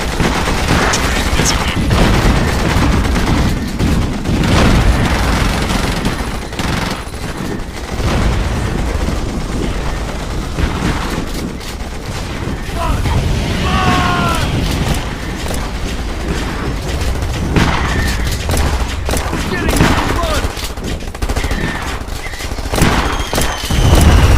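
Battle in the real-time strategy game Iron Harvest, set in an alternate 1920s: dense bursts of rapid gunfire, machine-gun rattle and booming explosions crowd together loudly and continuously, with clanking mechanisms under the chaos.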